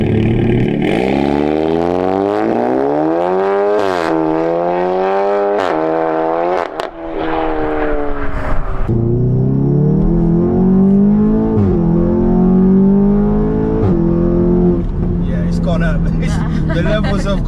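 A tuned VW Golf GTI TCR Stage 2 road car making about 400 bhp revs loudly and close, its engine note rising and falling in repeated sweeping pulls with brief gearshift breaks, heard from inside as people talk over it.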